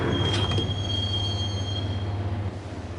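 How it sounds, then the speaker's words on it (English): Subway train riding in the Max Payne video game, a loud rumbling rail drone under a sustained high metallic wheel squeal, with a few sharp rattles early on before the rumble drops slightly near the end. "the train doors had already shut behind me, and I was in for the ride."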